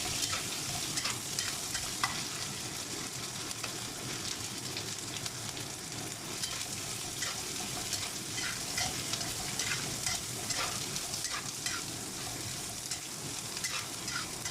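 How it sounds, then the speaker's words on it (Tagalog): Dried squid frying with chilli in a pan while being stirred: a steady, dense sizzle and crackle runs throughout, with scattered scraping clicks of the utensil, close and continuous with no talk. "Haluin lang natin ang haluin yan hanggang sa maluto"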